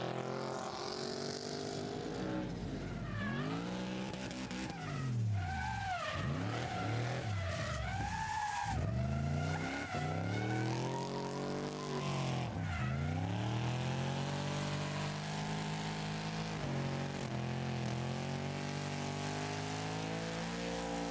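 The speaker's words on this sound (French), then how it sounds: "500 chevaux, la Dodge Charger, le monstre, la plus grosse voiture du week-end." A 500 hp Dodge Charger drifts at a French championship at Le Castellet, its engine rising and falling in pitch while the tires squeal continuously and loudly throughout the run, with no voices over it.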